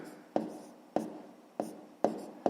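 Pen or chalk writing out a sixth-grade math fraction solution, four sharp strokes or taps at a steady rhythm about every 0.6 seconds with scratchy writing between them, close and fairly quiet, no talk.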